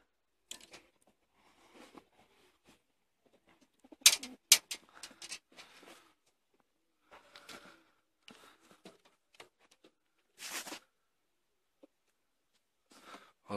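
German Long Face tumbler pigeons cooing in scattered short bursts with rustles and brief gaps between calls, fairly close and otherwise quiet, with no talk.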